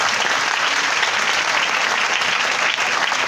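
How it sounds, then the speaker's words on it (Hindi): Loud, sustained applause from a church congregation after choirs sang at a Catholic Holy Mass service, a dense, even roar of many hands clapping steadily for over three seconds with no voices. "तो हम इन तमाम क्वायर के लिए जोरदार ताली बजाएंगे।"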